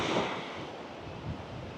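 Stormy wind whips across the sea at Torrevieja, Spain, a dense, steady roar of surf and wind gusts buffeting the microphone, loud and unbroken with no voices.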